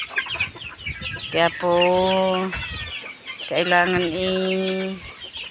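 Chickens cluck and a hen lets out two loud, drawn-out calls close by, with talking mixed in between the calls.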